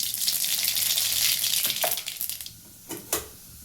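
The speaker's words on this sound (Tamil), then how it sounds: "கடாயில் எண்ணெய் வச்சு கடுகு போட்டுக்கலாம்" Mustard seeds fry in hot oil in a kadai, a loud crackling sizzle that gradually fades, ending with a couple of sharp pops or utensil taps.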